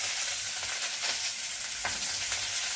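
Hot green chillies hit a pan of oil for chinthakai pacchadi, setting off a close, continuous sizzle and crackle that holds steady with no voices.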